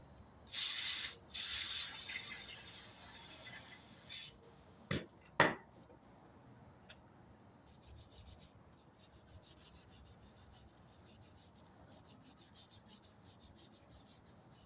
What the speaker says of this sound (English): I'm not even rubbing that hard with this steel.